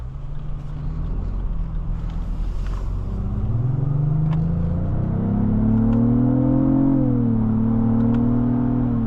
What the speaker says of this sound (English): I love the sound of that engine.